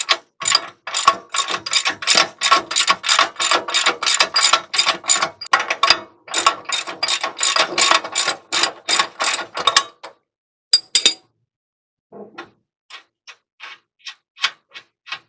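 A ratchet wrench clicks steadily while backing a nut off the front suspension of a P32 Workhorse motorhome during a coil spring and shock swap, long rapid runs of clicks, a pause, then a few slower clicks, close and alone.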